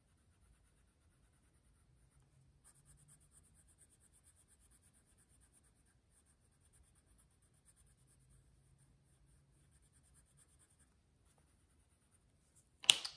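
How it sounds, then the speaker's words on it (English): A light blue colored pencil is stroked sideways across paper, giving a faint, soft scratchy rubbing that comes and goes in quiet strokes, ending with a brief louder tap. "I'm going to grab this light blue colored pencil, and you notice I'm coloring with it on the side"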